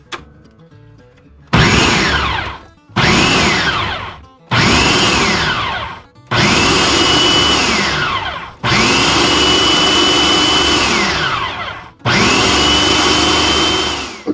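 A kitchen blender pulses jalapeño peppers in loud repeated bursts, six motor runs spinning up and cutting off, the later ones longer, with short pauses between.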